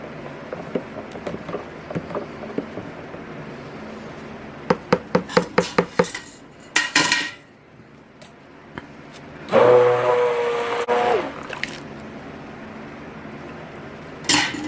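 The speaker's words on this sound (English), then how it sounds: "we'll hit it with the immersion blender for just like I did with the peppermint oil" Sharp taps and clatter, then a loud motorized whir of an immersion blender on low runs steadily for a couple of seconds before cutting out, with no one speaking.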